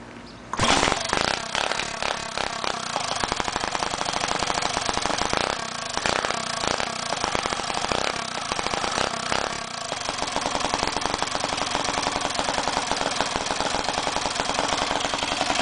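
A go kart engine with a new connecting rod on an old piston top, burning oil, starts and then runs steadily and loudly at a rough idle for about fifteen seconds.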